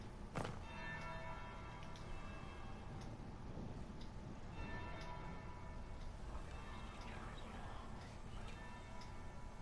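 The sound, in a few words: church bell ringing third bell in Dragon Age video game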